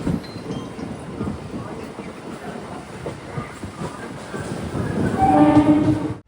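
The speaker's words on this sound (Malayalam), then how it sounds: "മൺട്രോ തുരുത്തിൽ നിന്നും 81 കിലോമീറ്റർ യാത്ര ചെയ്ത് ട്രെയിൻ ഇതാ കോട്ടയം റെയിൽവേ സ്റ്റേഷനിലേക്ക്" A train pulls into Kottayam railway station after its run from Munroe Island, with a steady rolling rumble and clatter that swells louder toward the end, where a brief tonal whine or horn rises over it.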